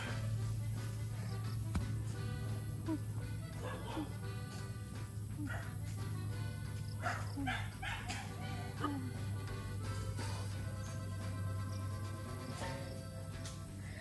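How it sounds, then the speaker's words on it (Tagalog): A dog barks and yips intermittently at a distance on a farm over a steady low hum and background noise, with some faint voices. "Ay, may aso."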